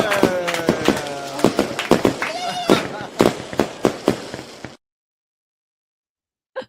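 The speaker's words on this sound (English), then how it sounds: "We'll do fireworks." Fireworks or firecracker sound effect: a dense run of sharp cracks and pops at an uneven rhythm, loud and close, stopping abruptly, then one last isolated pop after a short silence.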